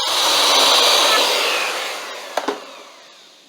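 A mortise is cut with a mortise jig, starting as a loud, close whirring rush of cutting noise that slowly winds down, followed by a couple of sharp knocks.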